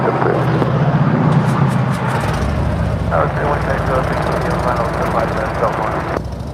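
Qantas Dreamliner airliner on final approach into LAX, a steady broad jet roar filling the scene throughout, with radio-like talk running over it.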